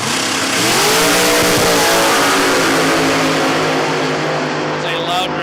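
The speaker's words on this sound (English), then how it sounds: "It's a loud dragster." A dragster at a drag racing event roars loudly down the strip, a dense sustained engine blare with rising revving tones that fades slightly near the end, with people talking faintly beneath it.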